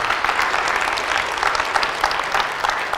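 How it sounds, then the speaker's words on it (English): A church congregation claps and applauds in a steady, dense wash of hands that stays loud across the whole stretch. "I don't even feel awkward about you clapping about that"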